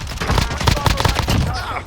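Rapid, dense burst of gunfire in Call of Duty Warzone, sniper rifle shots mixed with other weapons firing in close succession, loud and continuous for the whole stretch, with faint voices underneath.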